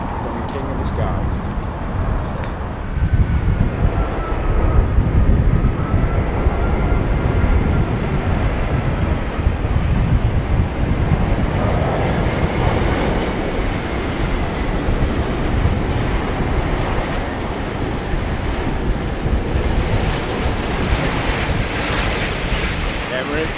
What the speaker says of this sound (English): The Qatar A380 coming in from Doha.